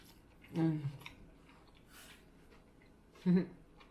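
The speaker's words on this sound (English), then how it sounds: "It's a lot of chewing." Someone chews a Subway sandwich up close, with a few soft, wet bites and mouth sounds in short bursts separated by quiet pauses.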